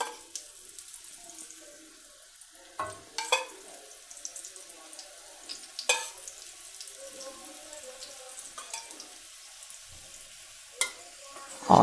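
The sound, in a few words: lachha paratha frying with ghee on a tawa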